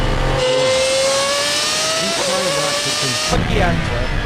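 An extremely loud car engine roars steadily and close, its pitch climbing as it pulls away, then drops briefly before the din returns, with a voice partly under it.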